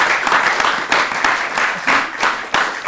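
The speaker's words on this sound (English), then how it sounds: "Look, you deserve that round of applause." An audience claps steadily in dense applause after a speaker at a community awards event, a close, continuous patter with little talk.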